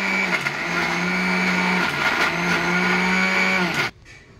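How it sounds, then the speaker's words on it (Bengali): An electric mixer grinder runs loud and close, grinding chicken mince in a steady whirring drone with slight pitch dips, then cuts off abruptly near the end. "মিক্সি চলছে, এই দেখেন মিক্সি করা হচ্ছে।"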